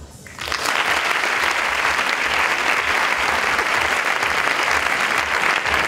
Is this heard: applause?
yes